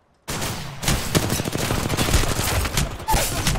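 Gunfire in an Apex Legends arenas match, rapid automatic shots rattling in quick succession after a brief silent start, close and loud, with the firing continuing to the end.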